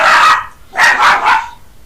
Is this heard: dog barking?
yes